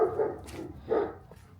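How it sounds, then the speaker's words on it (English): Two quick, muffled dog barks a moment apart, fairly faint and heard from a distance outdoors. "Doggies, could you shut up? I'm trying to make a video over here."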